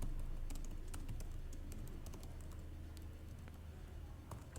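Code is typed on a computer keyboard in a quiet room, with soft, rapid, irregular key clicks over a low steady background hum.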